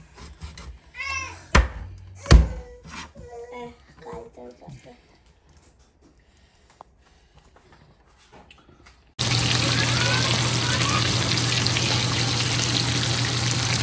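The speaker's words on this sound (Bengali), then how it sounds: "মাছ একদম ধুয়ে দিয়ে দিলাম" Fish are washed in water: after several seconds of talking and quiet handling, a loud, steady rush of running water starts abruptly and continues to the end.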